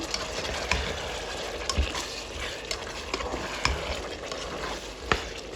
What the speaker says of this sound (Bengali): এগুলো দিয়ে এখন আমি ভালোভাবে এটাকে নেড়ে ছেড়ে নেবো